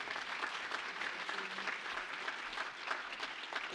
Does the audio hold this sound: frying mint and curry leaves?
no